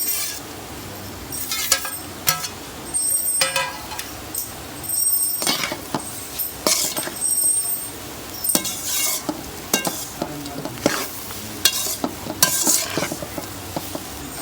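A roasted chana dal laddoo mixture with cashews, raisins and coconut is stirred in a pan, with loud, close, repeated scraping strokes, metallic clinks of the spoon and a light sizzle underneath.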